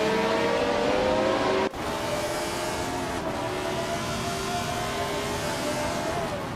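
A 1971 Ferrari 312 B2 racing car and a field of other cars in a racing video game scream at high revs off the start line, a dense, steady engine roar with gear-shift breaks and pitch changes.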